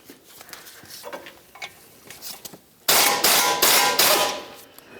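Sharp metallic clanks and ratcheting bursts from a 17mm socket breaking loose the caliper bracket bolts on a 2010-2013 Nissan Versa front brake, scattered light taps at first, then a loud sustained stretch of rapid clatter.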